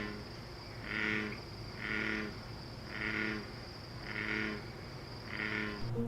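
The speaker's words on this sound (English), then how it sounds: "we're actually going to listen to a real American bullfrog sound." Five evenly spaced, low buzzing croaks of an American bullfrog repeat about once a second, each a drawn-out resonant call over a steady background hum.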